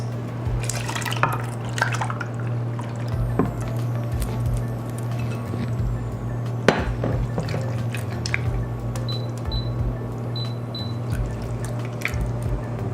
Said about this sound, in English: And then we're going to add our tomatoes.